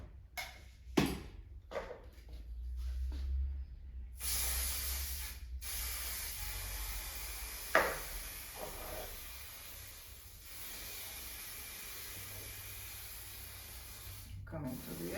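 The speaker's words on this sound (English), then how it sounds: "Okay, so let's spray it." A spray can hisses in several bursts, short spurts followed by longer steady sprays, as it coats a handmade DIY star-shaped newborn bowl, heard quietly and close with occasional handling taps.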